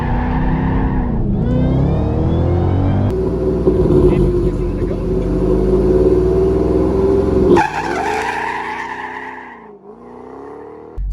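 A car launches hard with an off-centered panhard bar, pulling sideways as the driver counter-steers: loud, continuous engine roar rising and shifting in pitch, with tire noise, close and sustained throughout.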